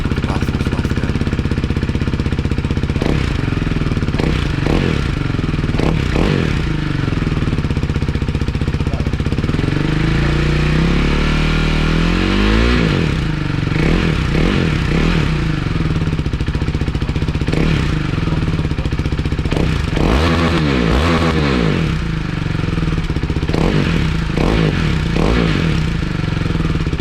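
KTM 390 Duke motorcycle with an aftermarket exhaust, baffle installed, running close and loud throughout, idling with rough pulsing and several throttle blips that rise and fall.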